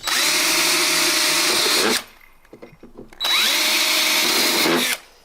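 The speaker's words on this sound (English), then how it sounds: "Now make the 3 mounting holes for the screws so that you can mount the camera in place." Power drill boring screw mounting holes for a CCTV camera mount: two loud, close bursts of high whining drilling, each lasting about two seconds, separated by a short pause with faint handling noises.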